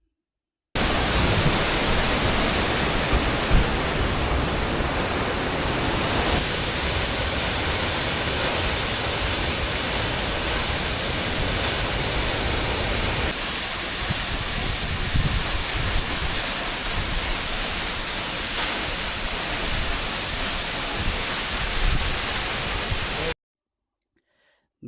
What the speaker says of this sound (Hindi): पीछे लश ग्रीन फॉरेस्ट और सामने गिरता पानी, परफेक्ट इंस्टाग्राम रील स्पॉट है ये।